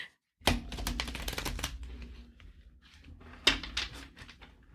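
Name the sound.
shuffling tarot cards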